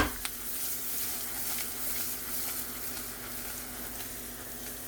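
Onions sizzling steadily in a pan with bacon and garlic, a continuous close frying hiss with faint crackles and no talking.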